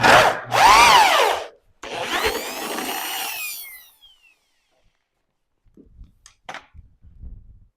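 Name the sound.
drilling with a 3/8 bit into classic car door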